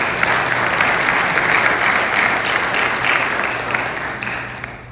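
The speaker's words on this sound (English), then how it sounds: "Let's give them a round of applause" Steady, full audience applause at a 2022 political forum greets the candidates attending, a continuous wash of clapping from a sizable crowd with no pause.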